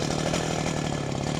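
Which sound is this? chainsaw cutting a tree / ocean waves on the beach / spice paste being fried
chainsaw cutting a tree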